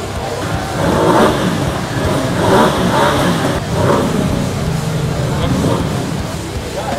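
A Ducati XDiavel motorcycle engine revs loudly at a launch event in Belo Horizonte, with repeated swelling throttle blips over a constant rumble and crowd noise.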